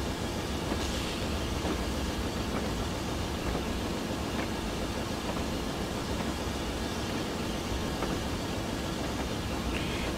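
A Clan class 6MT steam locomotive in a train simulator game works steadily along Western Scottish lines, giving a continuous loud rumbling roar with faint rhythmic beats and clicks throughout, no voices.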